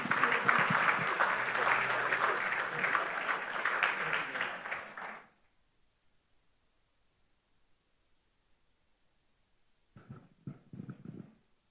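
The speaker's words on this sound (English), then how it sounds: "Mr. Daniel Taylor, MBE, a round of applause, please" Audience applause at the Caribbean Global Awards 2023 ceremony, a full, steady burst lasting about five seconds that stops abruptly, followed by silence and then brief faint voices near the end.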